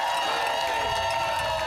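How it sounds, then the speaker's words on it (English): A crowd roars and cheers as a 7,500-kilometre cross-country charity ride reaches its finish, a steady dense wash of voices held at an even level throughout. "A roar from the crowd as the"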